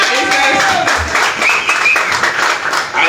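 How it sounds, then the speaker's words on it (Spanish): People at a press conference clap for the panelists, a short burst of close, fairly loud hand claps mixed with voices talking in the room. "Un aplauso para nuestros panelistas."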